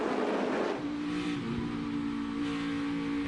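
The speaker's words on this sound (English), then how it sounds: "Hear him feathering the throttle to get back into trouble. line." NASCAR race car at a Texas playoff race, its engine note rising and dipping as the driver feathers the throttle, a steady loud drone with tonal harmonics and a brief rougher burst at the start.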